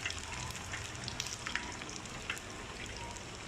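Plantain slices frying in hot oil, a continuous dense sizzle with scattered pops and crackles, close and steady, no talking.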